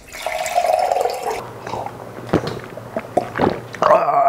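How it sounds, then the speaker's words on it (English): Water trickling and dripping inside a Berkey gravity-fed water filter, a running trickle at first, then scattered irregular drips and splashes close by, rising again to a flowing stream at the end. "So the Berkey filter is a gravity-fed filter. You stick the water in the top and then it comes out clean out of the bottom."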